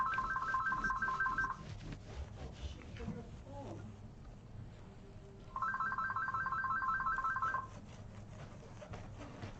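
A phone rings in two bursts of steady electronic trilling a few seconds apart, coming from a workshop where an Epiphone Les Paul guitar is being set up, with a low room hum and a voice talking between the rings.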